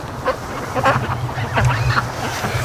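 A flock of free-range ducks quacking repeatedly, several birds overlapping in a busy outdoor chorus at moderate distance over a steady low background hum.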